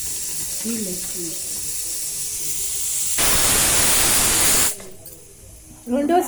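A pressure cooker lets out its second whistle, a loud burst of hissing steam lasting about a second and a half, with a voice talking before and after it.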